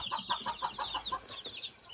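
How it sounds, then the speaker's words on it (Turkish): Chickens and chicks cluck in a backyard coop with Tindet and Lohmann hens, a rhythmic series of close, bright clucks and peeps with no voices. "Şöyle civcivlerimize bakalım"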